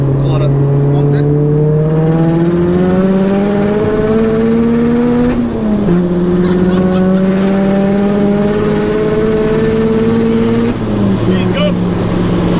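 A dry-sumped, 600bhp Mazda MX-5 accelerates hard in third gear. Its loud engine note rises steeply in repeated pulls, and brief gear-change dips break up each climb as it revs again.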